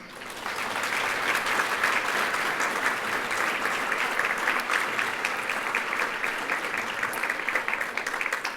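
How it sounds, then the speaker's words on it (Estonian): Sustained, dense audience applause at a school ceremony for a native-language speech contest fills the hall steadily for several seconds, loud and even, with no break in the clapping. "teeme palun kõigile veel ühe suure aplausi"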